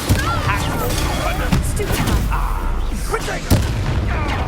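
The Bombarda spell goes off in Hogwarts Legacy, heavy booming blasts among repeated explosive impacts and crashes during a battle, with a voice shouting over the action.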